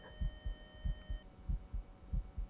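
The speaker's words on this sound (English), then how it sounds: "Y'all hear that heartbeat?" Rhythmic heartbeat pulses in a ghost-hunting video game, about eight low double-thumps at a steady pace, loud and close over a faint electronic hum, with no talking.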